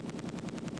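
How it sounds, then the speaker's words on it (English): MG42 machine gun fire in the WWII strategy game Close Combat 2, a steady rapid rattle of repeated bursts at an even rhythm, dense and continuous throughout without any talk. "MG42."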